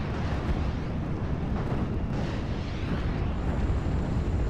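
Panzerwerfer rocket barrage striking a Bofors gun position in Steel Division: Normandy 44, heard as a continuous deep roaring rumble of explosions and burning, loud and dense throughout with no clear gaps.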